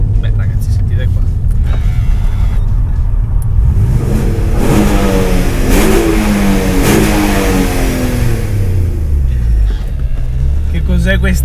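An Alfa Romeo 147 GTA engine revs hard and loud, rising and falling in pitch through repeated acceleration, with a deep rumble throughout and no talking.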